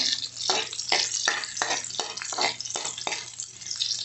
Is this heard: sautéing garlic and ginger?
yes